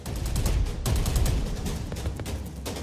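Sustained bursts of gunfire aimed at a flying aircraft, rapid overlapping shots forming a dense, loud barrage with a brief pause before the firing resumes.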